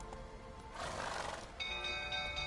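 Horses whinny in a burning stable in the video game The Witcher 3, a rough, shrill neigh rising in the middle of the clip. Another high, drawn-out call follows over steady background noise.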